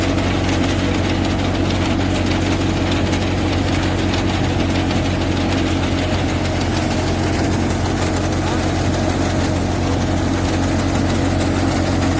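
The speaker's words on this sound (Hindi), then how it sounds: "उड़द की थ्रेसर चल रही है।" A threshing machine runs on a farm, threshing a urad (black gram) crop, with a steady loud engine drone and rattling mechanical vibration that continues unbroken throughout.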